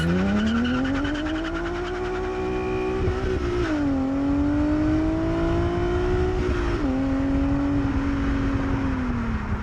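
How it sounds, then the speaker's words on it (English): A car pulls hard at full throttle, its engine droning loud and close with a steadily rising pitch that dips briefly at two gear changes before climbing again, heard alone from start to finish with no talking. "But what about full throttle acceleration?"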